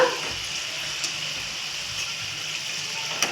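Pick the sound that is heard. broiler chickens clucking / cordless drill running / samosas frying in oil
samosas frying in oil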